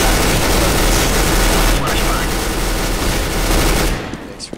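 Dense, continuous automatic gunfire in CS:GO competitive play, loud and sustained for several seconds before dropping away near the end, with voices talking over the shooting.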